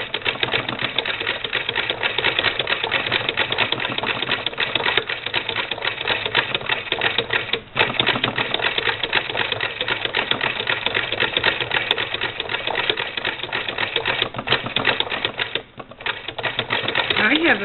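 A Singer Model 20 SewHandy toy sewing machine stitches binding onto a quilt on a heavy wooden kitchen table, giving a steady, fast mechanical clatter that runs continuously and close up, with only a brief pause near the end.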